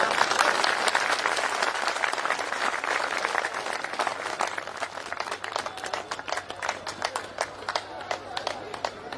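Steady, energetic applause from a crowd at a ceremony honoring a chief guest, many hands clapping continuously and fairly close for the whole stretch, with no let-up.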